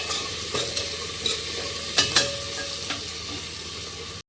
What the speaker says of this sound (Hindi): ये मैंने डाल दी यहाँ पे टमाटर। अब मैं इन्हें सौटे कर लूँगी।